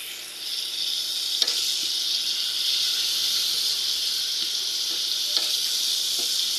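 Sitaw string beans sizzle continuously in a pan of adobo seasoned with soy sauce, an even close hiss with occasional faint spoon taps.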